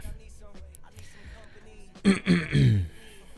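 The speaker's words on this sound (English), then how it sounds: "Hearing me constantly cough and clearing my throat" A couple of throaty coughs and a throat clearing burst out near the mic after a quiet stretch, short and rough, with no talking.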